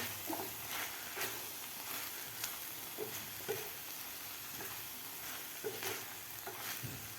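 Ginger is sautéed for about a minute in a ground spice paste. A faint, close sizzle is broken by repeated soft stirring scrapes and light spatula taps at an uneven pace.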